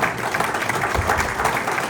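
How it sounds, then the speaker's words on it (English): Roadhouse comedy show crowd applauds comedian Jay on a Valentine's Day night; brief, loud, dense clapping with some crowd noise over two seconds. "Give Jay a big round of applause"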